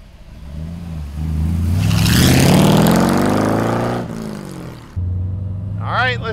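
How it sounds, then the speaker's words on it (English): A 1930 Ford five-window coupe street rod with a 502 engine pulls away at half throttle, its deep exhaust rising to a loud climbing roar and easing off before revving again, with a voice briefly heard over it. "that's about half throttle with this 502"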